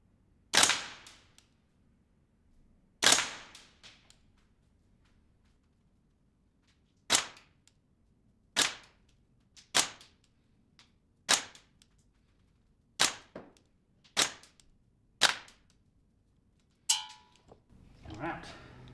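A GBLS DAS gas blowback airsoft gun fires 0.36 gram BBs at a 10 metre target, about ten sharp, loud, separate shots spaced a second or more apart with quiet gaps, and a short rustle at the end.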